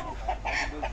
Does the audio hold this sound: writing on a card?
no